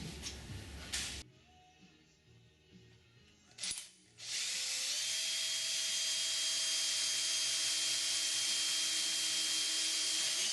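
A power drill bores rivet holes in the aluminum tail kit of a Sonex aircraft, starting in short bursts before running in a loud, steady whine that holds for several seconds.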